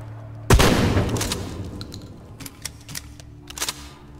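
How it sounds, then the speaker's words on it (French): Pump-action shotgun blast in Shadow of the Tomb Raider, one loud booming shot that rings out and decays, followed by several quieter clicks and mechanical clacks of the slide being worked. "Sacré fusil à pompe"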